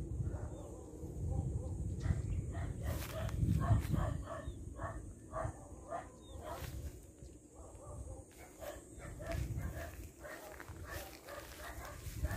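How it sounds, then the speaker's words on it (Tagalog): A dog barks repeatedly in rural Bulacan countryside, a string of rapid barks at moderate distance amid outdoor ambience, with someone talking over it at times. "Merong aso dito."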